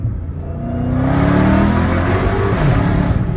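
A Dodge Hellcat Redeye with its muffler deleted revs up from a low rumble into a loud, rising supercharged roar that holds strong through the end, close and unaccompanied by talk.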